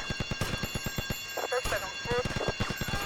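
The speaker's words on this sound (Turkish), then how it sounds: "Alarm da bayağı ötüyor" An alarm rings in GTA Vice City as a repeating, rapid clanging pulse under game sounds, with someone talking over it in places.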